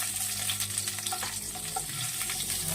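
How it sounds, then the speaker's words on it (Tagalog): Garlic sautéing in a little cooking oil, a steady close sizzle and crackle with faint stirring, no talking. "Igisa natin ang bawang."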